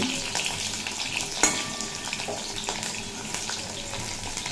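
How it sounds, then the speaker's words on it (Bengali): Chopped pointed gourd fries in hot oil in a pan. A close, steady sizzle runs throughout, with a sharp clink near the start and soft scraping from stirring. "তার জন্যই আমি এখানে পটল আগে দেড় মিনিট মতো ভেজে নিচ্ছি"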